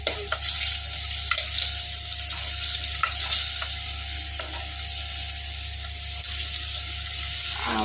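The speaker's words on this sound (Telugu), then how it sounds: "ఆవాలు ఇట్లా చిటపటమన్న తర్వాత" Mustard seeds splutter in hot oil during tempering for a chamadumpala pulusu (taro root stew). Continuous close sizzling is scattered with sharp crackling pops over a steady hiss.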